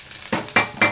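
Vegetables and scrambled egg being stir-fried together for egg fried rice, heard as three quick loud scraping clatters of a utensil against the pan over a faint sizzle, close and with no talk.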